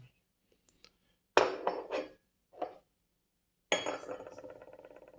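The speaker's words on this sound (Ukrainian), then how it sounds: "Зараз покажу блюдце." Porcelain clinks and rattles in a few separate bursts as a saucer from a tea set is picked up and set down, close and crisp in an otherwise quiet room.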